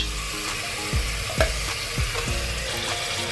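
Mutton frying in a pan with onion paste and green chillies, a constant dense sizzle close by, with a few metallic clinks and scrapes from stirring, no voices.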